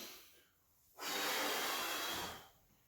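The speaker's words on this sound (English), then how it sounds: "Deep breath." A deep breath taken during an at-home mobility session, standing with feet together and legs straight; one long, close, breathy inhale of about a second and a half, alone and fairly loud.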